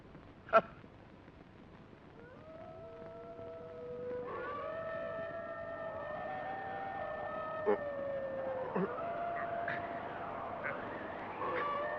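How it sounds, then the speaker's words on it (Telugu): Jackals howl at night near a fort in a Telugu movie scene: long, wavering, overlapping howls that rise and bend in pitch, growing louder and fuller, with a few sharp knocks in between. "నక్కలు కూస్తున్నట్టున్నాయి."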